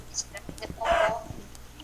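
Chicken clucking in a survival video game, a few short clucks and squawks over a steady low hum.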